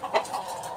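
A chicken calls out close by in a Philippine outdoor setting, a few short clucking and squawking bursts in quick succession, moderately loud, with no speech over them.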